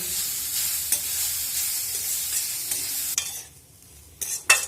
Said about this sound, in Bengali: ঘিটা গরম হয়ে গিয়েছে, এবার দিয়ে দেব আগে থেকে গ্রেট করে রাখা গাজর।